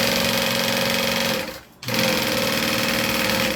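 A sewing machine runs fast and steady, joining two fabric pieces with a construction stitch at stitch length 3. It pauses briefly midway, then resumes at full speed.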